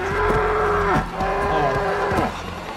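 Eerie creatures in the Until Dawn horror game let out long, drawn-out moo-like calls, several overlapping groans rising and falling in pitch, loud and close with no talking over them.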